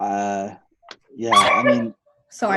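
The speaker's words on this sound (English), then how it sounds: "that was my dog" A pet dog barks excitedly somewhere in the back of a home during a virtual conversation, with short bursts between stretches of nearby talking voices.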